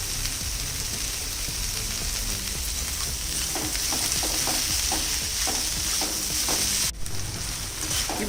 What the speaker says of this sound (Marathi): थोडंसं मऊ होईपर्यंत जरा परतायचं तेलावर